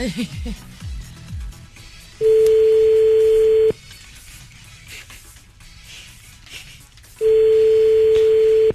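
Ringback tone on an outgoing phone call: two long, steady, loud buzzing tones, each about one and a half seconds, separated by a pause, with faint background voices and noise in between.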